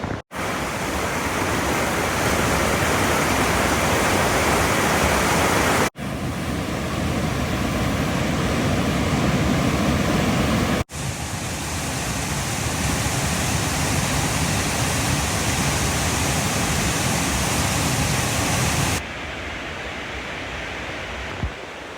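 A forest waterfall along the Sentier National in Bas-Saint-Laurent pours with a continuous heavy roar, broken by two brief cuts and growing slightly duller near the end, with no one speaking.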